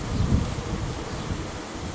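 Honeybees crowd a built comb frame while a swarm is worked at the hive, giving a dense, steady low buzzing hum close by with slight rustle and no voices.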